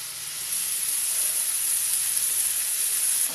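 Boiled desi corn, seasoned with salt and turmeric, hits a hot pan with garam masala and a little water, setting off a steady, bright hissing sizzle that swells slightly and holds evenly, up close.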